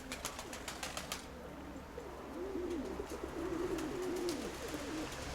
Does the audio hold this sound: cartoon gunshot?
no